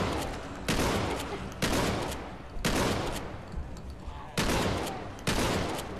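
Shotgun blasts in The Walking Dead video game fired at zombies, five loud booming shots at roughly one-second intervals, each followed by a decaying rumble.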